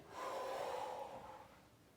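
One deep breath, drawn in and let out during a school stretching exercise, soft and close, lasting about a second and fading away, with no talking.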